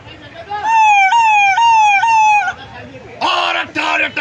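A man imitates an ambulance siren with his voice amid a crowded traffic jam, producing loud rising-and-falling wails for about two seconds followed by a couple of shorter, harsher vocal blasts.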